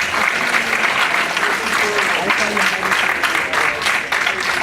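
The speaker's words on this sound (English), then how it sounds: "Let's give him a round of applause." Lively crowd applause at a fan convention panel, a dense, steady wash of clapping with scattered cheers and voices that continues throughout.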